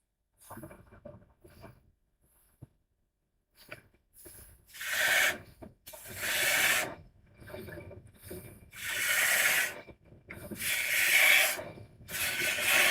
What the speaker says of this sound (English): Now this is just 180 grit sandpaper.